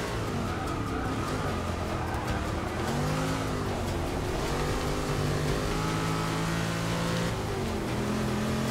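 Old race car engine in Forza Motorsport 6 drones loudly and continuously, its pitch sweeping up and down through gear changes and revving, with faint tire noise and no talk.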